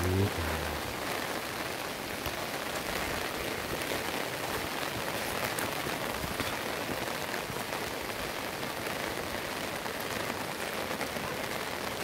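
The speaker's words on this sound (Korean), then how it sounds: "갈수록 비가 많이 오네" Heavy rain pours down steadily beside the Nakdong River at Seungbu-ri, a dense, even hiss of drops striking surfaces that stays loud and unbroken throughout, with a brief voice near the start.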